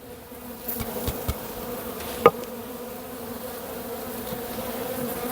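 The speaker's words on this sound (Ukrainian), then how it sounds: "Бджоли предостатньо. Ну, Зараз спробую відкрити." Honeybees buzz in a steady, close drone as a hive is opened, with a few sharp clicks and knocks of the hive parts near the start and no voices.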